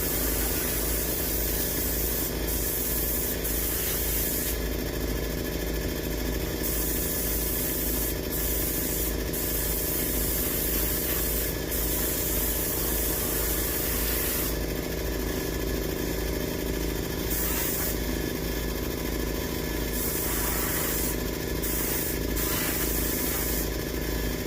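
Off-white spray paint hisses from an aerosol can onto an artificial skull for a European horn mount, a steady loud spray with brief gaps and changes in intensity.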